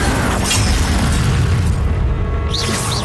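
A spell impact in the video game Hogwarts Legacy lands as a loud, booming burst within dense, continuous combat noise, followed by a bright magical shimmer near the end.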